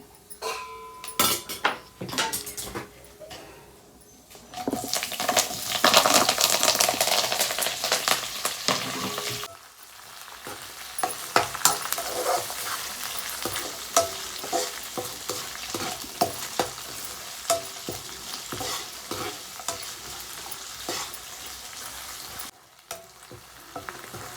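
Ginger, green chillies and onion fry for upma, with a loud sizzle and frequent spoon stirring and scraping against the pan. The sizzle is strongest early on and the stirring goes on throughout.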